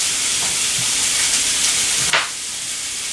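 Steady frying sizzle of pears in a skillet with a constant hiss throughout, plus a brief louder burst of crackle near the end, no voices.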